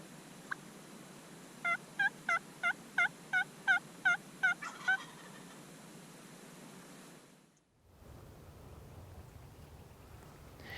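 A wild Rio Grande turkey gobbles from a distance on a Texas riverbank in a quick run of about nine repeated pulses, then falls quiet against steady outdoor background noise.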